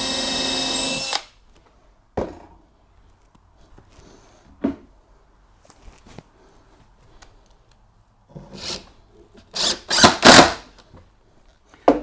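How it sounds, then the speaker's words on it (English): A power drill drives screws into a wooden stair riser on a straight-flight staircase kit, with several short whirring bursts separated by pauses and one longer run toward the end, loud and close. "So when I drill and screw nice and straight, I won't get one going out the top and one going out the bottom."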